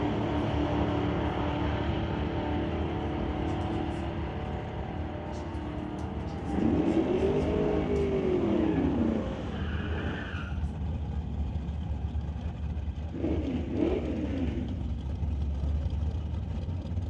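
Old-time drag racing at Mission Raceway Park, with a Chevrolet C10 pickup and a 1967 Chevrolet Camaro. Engines roar steadily throughout, with a rising whine as a car passes around the middle and a second surge near the end.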